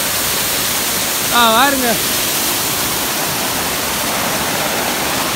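Rushing water of Kurangani waterfall in Theni roars as a steady, loud wash of noise throughout, with a person briefly calling out near the start.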